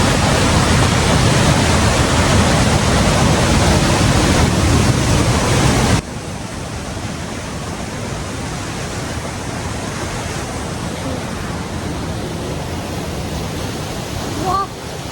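A steady, dense rush of falling water at the Kapas Biru waterfall in Pronojiwo roars throughout, dropping in loudness partway through, with a brief voice near the end.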